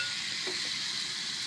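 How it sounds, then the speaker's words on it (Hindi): Chicken fries lightly over low heat, a soft, steady hiss with a faint stir or touch of the pan, quiet and alone. "चिकन को हम हल्का हल्का भूनेंगे हल्की सी आंच में।"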